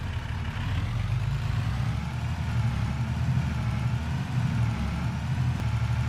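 A tractor engine idles in Farming Simulator 22, giving a steady, loud, low rumble that holds unchanged throughout with no talking.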